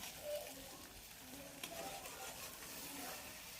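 Fish sizzling and frying in hot oil in a pan, cooked for a bottle gourd mustard curry, a steady soft crackle with a few stirring scrapes, fairly quiet and close with no talking.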